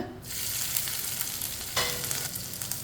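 Whole cumin and coriander seeds fry in hot oil with a loud, constant sizzle and crackle, swelling briefly near the end as they are stirred.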